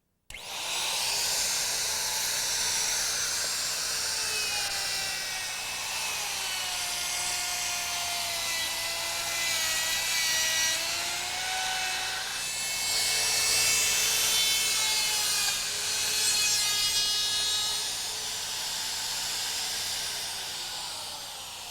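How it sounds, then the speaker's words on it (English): A plunge router cuts into a wood blank held down with carpet tape, a loud steady high-pitched whine with a gritty cutting hiss that shifts in pitch as the bit moves through the wood over about twenty seconds. "I did notice you used the plunge router, Bill."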